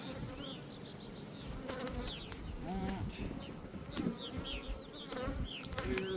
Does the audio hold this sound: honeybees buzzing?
yes